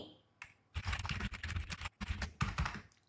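Fingers type on a computer keyboard in a quick, dense burst of soft, close keystrokes, with a brief pause midway before the tapping continues.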